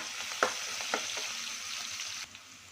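Green chilies with crushed ginger and garlic frying in a pan: a steady, moderate sizzle with a couple of sharp stirring clacks early on, then a slightly quieter hiss.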